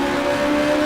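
A race car engine drones at steady pitch through a short burst, loud and close, heard alone as the car brakes and gets back on the power on a straightaway.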